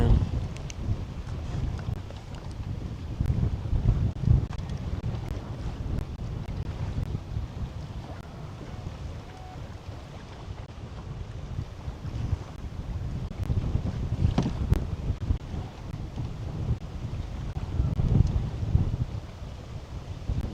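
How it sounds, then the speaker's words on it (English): Wind gusting across a lake and buffeting the microphone on a bass fishing boat, a continuous low rumble with surges and hiss, loud and close throughout. "Just kind of letting the wind blow us backwards right now"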